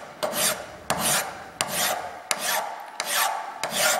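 A fine metal file rasps across a steel toolmaker's adjustable V-block in six steady, evenly spaced strokes, each a close, harsh scraping swipe with brief pauses between, and no voices.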